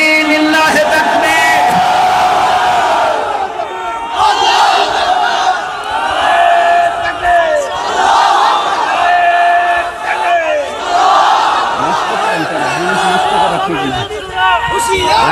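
A large crowd at a mosque sermon in Sultanpur Dargapara roars a takbir response in loud, repeated rhythmic shouts, dense and sustained for the whole stretch.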